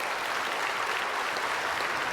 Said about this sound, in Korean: 이럴 때는 박수 한번 해줘야 되는데